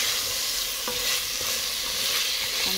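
Shrimp simmering in coconut milk for ginataang hipon are stirred in a pan, a close steady sizzle and bubbling with soft scraping strokes of a spoon, no voices.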